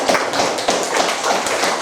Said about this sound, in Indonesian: Beri tepuk tangan dulu untuk anak-anak